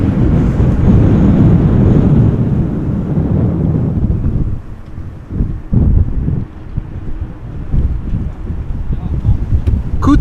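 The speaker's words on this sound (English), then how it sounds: "wind still very much blowing from the west" Strong westerly wind buffets the microphone at Schiphol Airport during a storm, a loud steady roar in the first four seconds that then eases into gusty bursts and rumbles.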